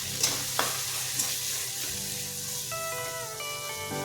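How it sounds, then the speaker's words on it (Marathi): Spices, including red chili powder and garam masala, sizzle and fry in oil in a pan while being stirred for a peas and cabbage vegetable dish, with a soft steady crackle and occasional clinks. "मसाले व्यवस्थित परतून घ्यायचे"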